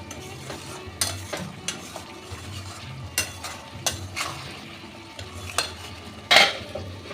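Spice mixture of garam masala powder, salt and sugar being stir-fried in a pan for an onion- and garlic-free pointed gourd dish, with a spatula scraping and knocking in irregular strokes over a soft background sizzle, close and without talk.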